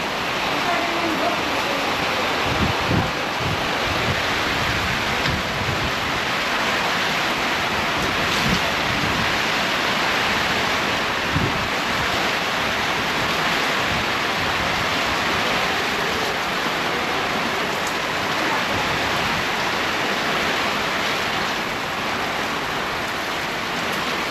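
Steady, dense rain pours down without pause with strong wind, a broad rushing hiss with occasional louder gusts and patters drumming on a tarp overhead.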